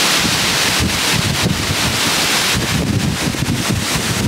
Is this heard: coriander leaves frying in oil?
no